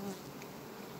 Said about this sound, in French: je suis venu prendre mon petit bain d'abeilles